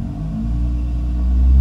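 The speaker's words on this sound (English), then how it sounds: "So when I put the car in gear, and we give the throttle" A car fitted with a Grannas Racing T56 Magnum manual gearbox rumbles as throttle is applied in gear, a deep low engine drone building steadily louder over a second and a half, close and without speech.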